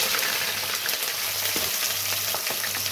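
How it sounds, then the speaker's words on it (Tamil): Onions sautéing in oil in a pan, a steady close sizzle with faint crackles running throughout, with no talking. "வெங்காயம் கொஞ்சம் வதங்குது"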